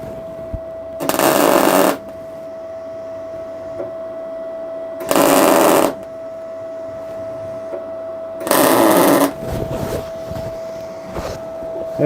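Steel parts for a Fowler steam roller are tack welded on a welding table in three short, loud, crackling bursts of about a second each, spaced a few seconds apart, over a steady background hum.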